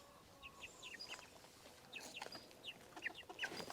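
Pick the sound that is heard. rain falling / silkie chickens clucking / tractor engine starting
silkie chickens clucking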